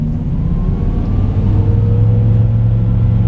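A BMW M6 V10 pulling away in first gear around town, a steady close engine drone with a rising whine as revs climb, heard from inside the car.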